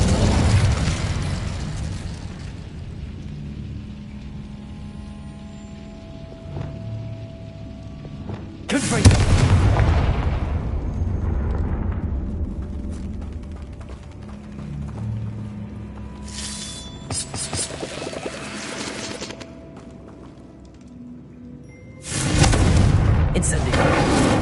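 Incendio fire spell cast in the video game Hogwarts Legacy, heavy booming bursts with a rushing fiery roar over a low game backdrop, recurring several times with a loud whoosh near the middle and another at the end.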